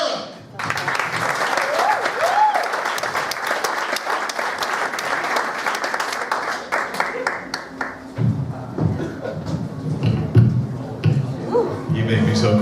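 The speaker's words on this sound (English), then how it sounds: "Big round of applause for Philippe Vieira." An audience at a class showcase applauds as a student comes to the stage, a full burst of clapping that thins out over time while people talk and shuffle closer to the microphone near the end.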